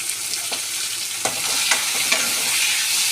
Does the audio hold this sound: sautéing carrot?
yes